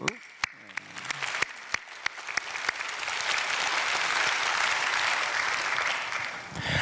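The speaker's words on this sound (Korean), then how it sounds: "우리 교사님께 한 박수예요" A church congregation claps for a teacher, starting as a few sharp, separate claps that quickly swell into sustained, full applause lasting to the end.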